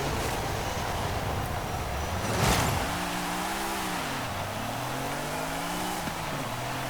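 1993 Jaguar XJ220S in Forza Horizon 5, the engine revving hard under a whooshing road roar, pitch climbing and dropping through gear changes after a passing swoosh, loud and continuous.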